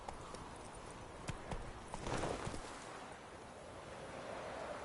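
Faint hoofbeats of Roach, Geralt's horse in the video game The Witcher 3: Wild Hunt, sound as scattered clip-clop steps over wind noise, growing a little busier midway through the clip.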